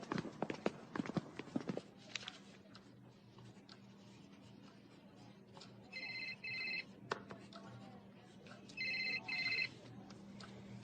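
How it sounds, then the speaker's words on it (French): A phone rings in two short electronic bursts in a room, near and clear, over a low steady hum after some earlier knocking and movement. "C'est le téléphone de qui?"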